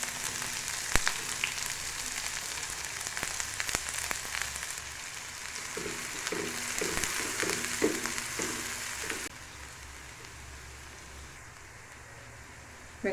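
Onions fry with popped mustard seeds in a pan, a faint crackling sizzle with scattered spits and light stirring taps, quieter and thinner toward the end.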